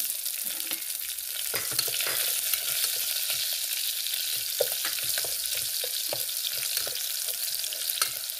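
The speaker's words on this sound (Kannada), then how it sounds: "ಹಸಿಮೆಣಸು ಹಾಕ್ಕೊತಾ ಇದ್ದೇವೆ" Green chillies go into hot oil in a frying pan for a raw mango dal, setting off a loud, steady sizzle. Scattered sharp clicks and pops come from stirring, close up with no speech.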